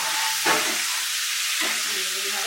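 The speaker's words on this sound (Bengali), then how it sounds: "এবারে পনিরগুলো আমি আস্তে আস্তে সমস্ত ভাজার জন্য ছেড়ে দিলাম" Paneer pieces dropped into hot oil with salt and turmeric fry with a steady close hiss, two short splashy bursts marking pieces going in.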